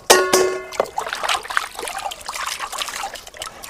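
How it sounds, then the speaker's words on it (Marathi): Water trickles and splashes as a plate is rinsed clean after washing dishes, with a brief chime-like clink near the start followed by uneven running and dribbling water. "आता आपण ताट पण धुवून घेणार आहे बघा"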